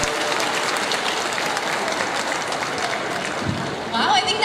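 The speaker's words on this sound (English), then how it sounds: "I think that deserves another warm round of applause, ladies and gentlemen." An audience at a pageant press presentation claps in a loud, sustained burst of applause, with crowd noise rising near the end.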